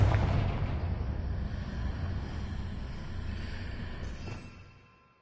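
In Hogwarts Legacy, a Confringo fire spell explodes with a loud, deep boom that opens with a sharp blast, then rumbles and rolls before fading away over about five seconds.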